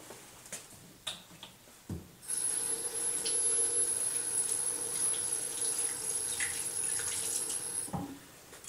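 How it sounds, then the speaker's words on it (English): Tap water gushes steadily into a sink during hand washing, a loud even splash that starts after a few small clicks and knocks and stops sharply near the end, with no talking. "let me wash my hands and then we'll get to it"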